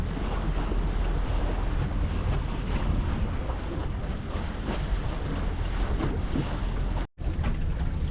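A speedboat runs on open water in Alleppey, Kerala. A continuous engine roar mixes with heavy wind buffeting and water rush, ending in a brief cutout.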